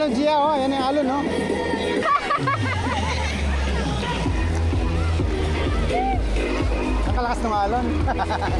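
Waves churn and slosh through a crowded wave pool at Aqua Planet in Clark, Pampanga. A deep, steady rumble builds partway through beneath constant crowd chatter, with people talking and calling out nearby.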